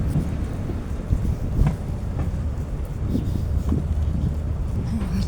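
Steady wind buffeting right by the sea in an outdoor setting, a continuous low rumbling roar with gusty swells throughout and faint background activity.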